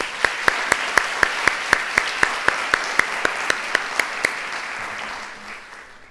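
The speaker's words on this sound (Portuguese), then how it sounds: "Uma salva de palmas para a Joyce" An audience at a teachers' education event claps together in a strong, evenly spaced rhythm of about fifteen sharp claps, with warmer applause underneath that slowly fades away near the end.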